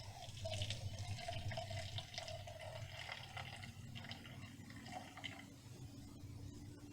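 Liquid fabric dye is poured steadily into a container for a fabric dyeing experiment, making a continuous trickling, splashing flow up close over a low background hum.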